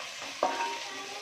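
Fresh mint and coriander leaves frying in a hot pan for meal maker fried rice, giving a short burst of sizzling with a faint stir near the start, then a steady soft hiss.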